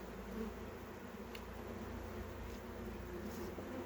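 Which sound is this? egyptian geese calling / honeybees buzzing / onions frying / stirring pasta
honeybees buzzing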